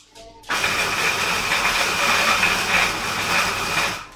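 A blender motor kicks on abruptly and runs loud and steady for several seconds, a dense whirring roar.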